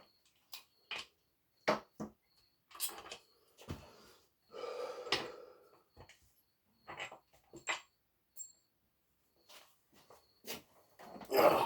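A dog in a garage where a Ford 4.6 L 32-valve Cobra engine is being worked on gives a series of short, close snorts, sniffs and wheezy huffs, separated by brief silences.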